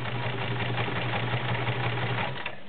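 A vintage 1931 Kenmore convertible free-arm sewing machine stitching through a couple of layers of suede leather, giving a steady, close, continuous mechanical hum and rapid needle clatter that stops at the end.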